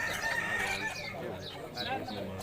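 An aseel rooster crows at a crowded fair in Mianwali, its call rising over the steady chatter and voices of the people gathered close around it.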